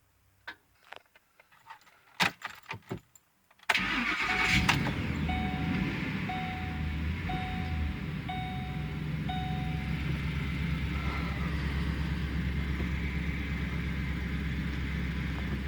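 Engine of a 2008 Ford Expedition 4x4 turning over after starter work: a few clicks and clunks, then the engine catches and settles into a steady, close idle with a faint periodic chirp.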